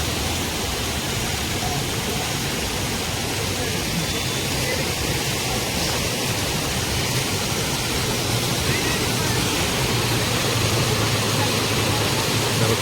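Gandahati waterfall roars with a steady, dense wash of falling water, loud and unbroken throughout, with no distinct voices rising above it.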